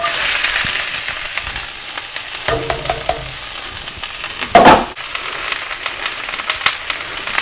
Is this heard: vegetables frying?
yes